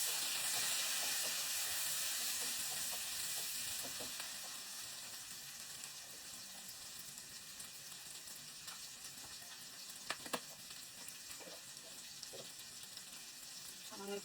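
Onion tipped into hot oil in a pan for chili chicken bursts into a loud hiss, then settles into a softer, even sizzle with a few sharp clicks near the end.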